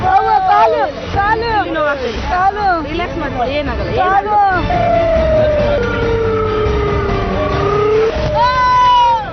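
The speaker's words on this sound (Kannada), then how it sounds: "ಭೋಜಂನವರನ್ನ ಆಂಬ್ಯುಲೆನ್ಸ್ ನಲ್ಲಿ ಆಸ್ಪತ್ರೆಗೆ ಕಳಿಸಲಾಯಿತು." A loud ambulance siren wails in rapid rising-and-falling cycles, then shifts to long, steady drawn-out tones, close and dominant throughout.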